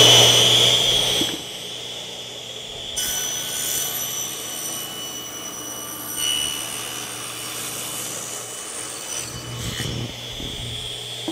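A saw makes the final cut through wood for a splined corner joint, producing a sustained whining, rasping cut that shifts in pitch and strength for about eleven seconds with no talking.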